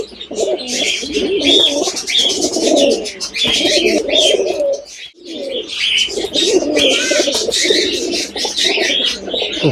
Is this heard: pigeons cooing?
yes